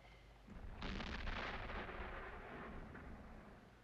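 A deep, distant boom of far-off cannon fire rolls out and rumbles on for several seconds, then slowly fades.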